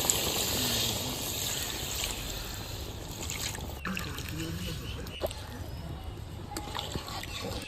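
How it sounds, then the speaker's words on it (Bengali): Water poured into mutton curry in a pan, a steady broadband rush with gurgling and sloshing under a faint hum, continuous throughout with a few clinks near the end. "এবারে আমি জলটা দিয়ে দেব"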